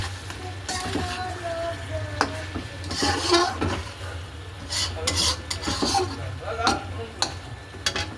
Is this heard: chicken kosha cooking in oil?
yes